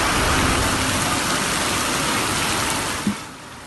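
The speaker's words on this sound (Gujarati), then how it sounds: "વરસાદના આ અવાજને સાંભળો." Heavy unseasonal rain pours down late at night in Vansda, Navsari, a dense, loud, unbroken hiss of downpour with one brief knock near the end.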